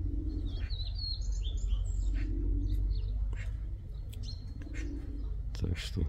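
Pigeons chirp and call in several short high bursts over steady low rumbling noise, with a faint voice or cooing in the background, before a brief flutter near the end.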